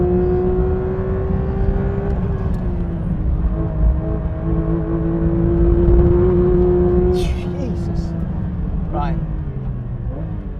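Porsche 911 GT3 RS flat-six engine droning steadily at high revs through a fourth-gear corner on a track, heard from inside with a sustained tonal note that shifts slightly, and a brief tire squeal near the end.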